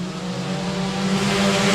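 Four-cylinder race cars roar around the 67 Speedway of Texarkana, a loud, steady engine drone holding close and constant with a slight swell toward the end, no voices over it.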